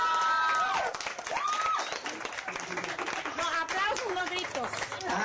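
Studio audience at a comedy show clapping and shouting loudly throughout, cheers and yells mixed with applause while a host's voice cuts in over the crowd.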